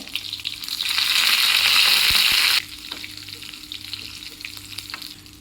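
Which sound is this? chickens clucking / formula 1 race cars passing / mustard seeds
mustard seeds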